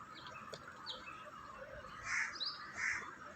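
Small birds calling and chirping around a home feeding spot visited daily by peacocks, pigeons, mynas, crows and sparrows, with two louder bursts of calls near the end over a steady background of chatter.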